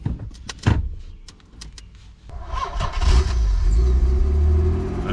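A few clicks and clunks, then a Nissan 300ZX convertible engine cranks, catches and revs up to a loud, steady roar nearby.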